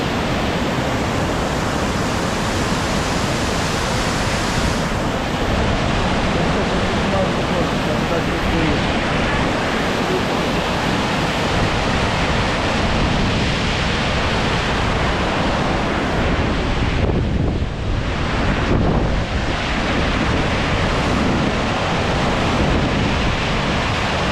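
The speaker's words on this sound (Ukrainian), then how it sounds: "та самого звуку водоспаду" A Carpathian waterfall's constant rushing roar, loud and close, filling the whole stretch with an unbroken wash of falling water and a brief dip near the end.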